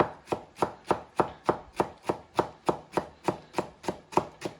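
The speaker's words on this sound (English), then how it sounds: "I'm just running a knife through it, just so it's manageable" Knife chopping broccoli on a board in a home kitchen, a steady run of about fifteen crisp, evenly spaced chops, close and alone.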